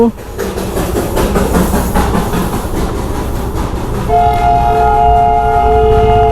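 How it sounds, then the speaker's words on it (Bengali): A Darjeeling toy steam train rumbles past close by with steady clattering, then a sustained horn or whistle tone rings out over the noise. "পরপর দু দুটি টয় ট্রেন প্রথমে একটা ধোয়া দিতে দিতে যাচ্ছে"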